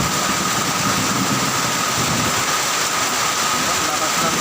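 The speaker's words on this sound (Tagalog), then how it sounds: "Lakas ng ulan." Heavy rain pours down in Manila during a windy thunderstorm, a dense, loud and unbroken roaring hiss that fills the whole stretch without pause.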